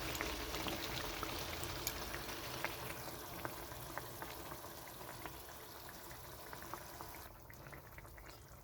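Lote fish (Bombay duck) simmering in a pan over a low gas flame as it releases its water, giving a faint, steady bubbling sizzle with tiny crackles throughout.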